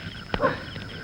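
A single short dog bark or yip at night, close and sharp, with faint background noise around it.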